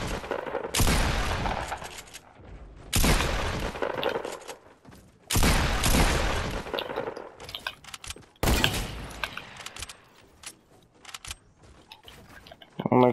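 Heavy sniper rifle fire in Fortnite rings out as four loud, widely spaced booming shots, each trailing a long decaying tail, with quieter game sounds between them.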